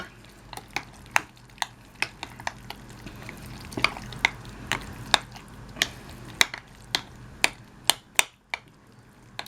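Leftover chicken casserole ingredients with green onions get mixed together, producing a steady run of wet, squishing stir strokes and sharp clicks, roughly two per second, close and clear with no talking.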